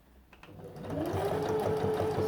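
A sewing machine stitching a round neckline facing starts up and runs in a steady, close whirring hum with a fast mechanical needle rhythm.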